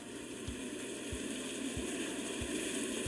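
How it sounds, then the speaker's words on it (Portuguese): Rain falling on the ocean, played from a sleep sounds app, makes a faint, even, continuous watery hiss with soft low thumps recurring at a regular pace. "Chuva no oceano."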